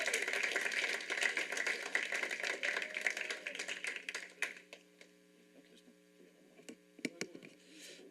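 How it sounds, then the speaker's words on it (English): Applause at a school district board meeting, broadband clapping that fades after a few seconds, leaving a steady electrical hum with a few scattered claps near the end. "So we give them a round of applause"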